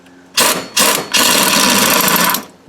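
An impact tool works a bolt on the power steering of a 1999–2006 GMC Sierra 2500HD pickup, firing two short bursts followed by a longer sustained rattling run, loud and close, with no talk.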